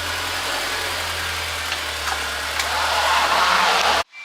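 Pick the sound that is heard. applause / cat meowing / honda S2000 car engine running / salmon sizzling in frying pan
honda S2000 car engine running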